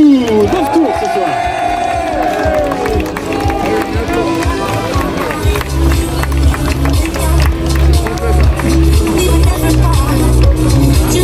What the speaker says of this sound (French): On peut applaudir très fort Manon Poulaillou